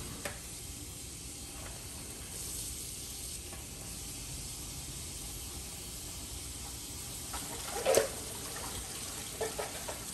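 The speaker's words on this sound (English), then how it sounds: "get your fingers down on every surface, get it under there, and rinse it out real good" Running tap water pours steadily over CPAP mask parts being rinsed by hand, a continuous hissing wash with a brief louder splash near the end.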